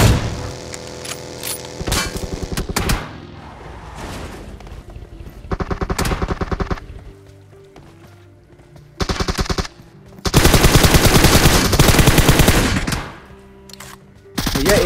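Bursts of machine-gun fire from enemy shots in an online shooter, loud rattling volleys alternating with quieter gaps, several long sustained bursts and a few shorter ones, no talking.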